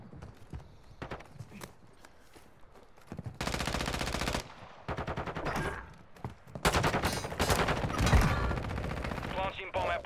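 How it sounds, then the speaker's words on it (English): Video game gunfire in a bomb-planting team match: rapid automatic bursts in two loud stretches, with quieter scattered shots and clatter between them. "They're sniping all the way from their spawn."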